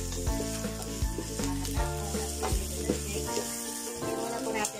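Yempo sausage frying in a pan until golden brown, a steady close crackling sizzle with brief stirring scrapes over a continuous low hum, no voice.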